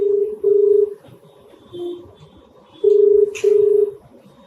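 Telephone keypad tones as a number is dialed for a call, a few separated DTMF beeps with short gaps, close and clear over a faint background hiss.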